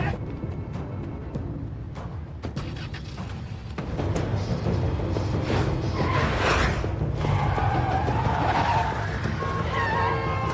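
Cars tear through a street chase in an action film, tyres skidding and squealing over roaring engines and whooshes, loud and sustained throughout with intensity building in the second half.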